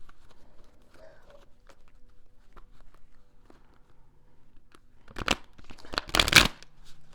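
A brief burst of tarot cards being riffled and shuffled near the microphone after several seconds of quiet, soft handling noises.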